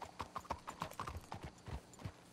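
Horse hooves clip-clopping in Red Dead Redemption 2, a quiet, steady rhythmic patter of hoofbeats with a faint voice in the background.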